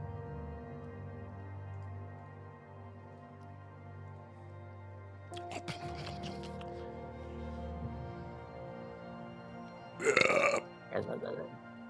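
A voice imitates a meaty belch, a low, drawn-out guttural croak rising out of a quiet background hum, followed by a short burst of laughter and talk.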